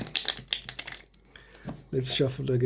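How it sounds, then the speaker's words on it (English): Tarot cards shuffled by hand in quick papery riffles and taps, close by, with a person talking over part of it. "Let's shuffle again."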